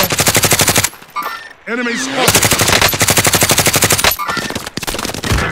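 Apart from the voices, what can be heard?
gunfire in the video game COD Warzone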